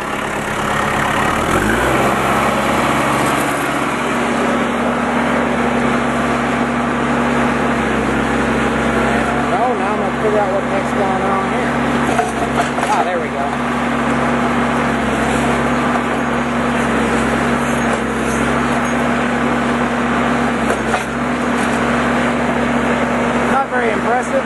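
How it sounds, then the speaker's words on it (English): A hydraulic post driver's engine revs up within the first couple of seconds, then holds a loud, steady, close-up drone with a throbbing low hum for the rest of the clip, with no break. "And I'm gonna have to rev that engine up to get enough pressure to do this."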